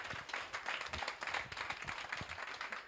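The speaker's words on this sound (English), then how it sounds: "Get another thunderous round of applause for Miss Tasha Long" Clapping from an audience at an awards ceremony on stage rolls on steadily, a dense patter of many hands with no voices rising above it.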